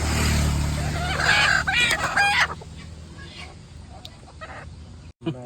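Pure village (gavthi) chickens cluck and crow up close, with a loud rooster call early on, then quieter clucking and rustling under a low background rumble.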